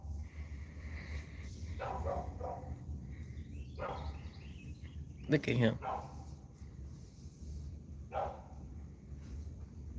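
Dogs bark in a few scattered bursts, one sharper and louder cluster in the middle, somewhat distant over a steady low hum, while a person speaks briefly.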